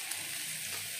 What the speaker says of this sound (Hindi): थोड़ी सी फ्राई होने देते ना